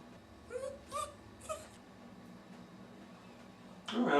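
A wiener dog whimpers close by, three short high whiny cries in quick succession, followed by quiet room tone and a louder rustle at the end; no talking.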